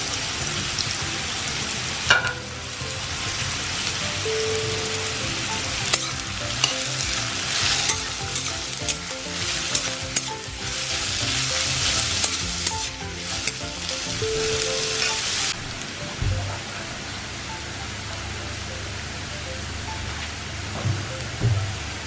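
Onions frying and being stirred in a pan: a steady, close sizzle with irregular scraping strokes throughout, quieting to a softer hiss near the end.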